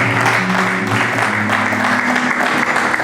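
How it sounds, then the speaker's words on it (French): An audience at a conference in Kinshasa applauds loudly, a dense, continuous wash of clapping from many hands, with faint voices mixed in. "Applaudissez très fort."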